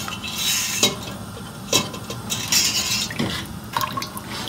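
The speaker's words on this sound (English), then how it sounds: "Just put a little bit of water in there." Water poured into a pot to steam lobster tails splashes steadily among close metallic clanks of pots and utensils, with no talking.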